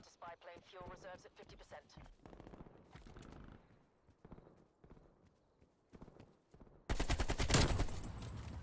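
Bursts of automatic gunfire from a Call of Duty Black Ops Cold War multiplayer match, quiet and choppy at first under overlapping voices, then a sudden loud, sustained barrage near the end.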